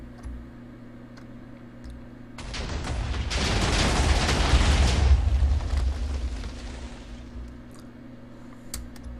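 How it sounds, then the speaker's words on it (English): A video-game slimeblock robot blows up in a loud, rumbling blast that swells over a few seconds and then slowly dies away, with no voices over it. "Nice explosion"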